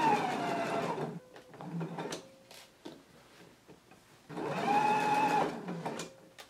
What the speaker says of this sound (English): we're gonna stitch across starting at the fold, going to the stitching line, and then we're gonna stitch down the stitching line